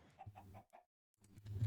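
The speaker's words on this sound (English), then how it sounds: "Oh, chicken." A Minecraft chicken gives a quick run of short clucks, close and clear. After a silent pause, a low rumbling sound builds.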